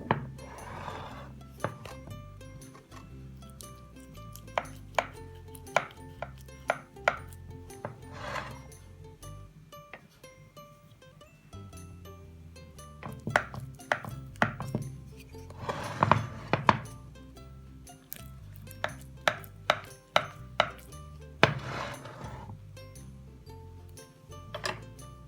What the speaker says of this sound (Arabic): نبدأ نقطع قطعة كده